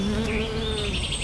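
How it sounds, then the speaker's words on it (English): A bee buzzes steadily and close by, a continuous droning hum with slight wavering pitch, heard alone for a little over a second. "Bee."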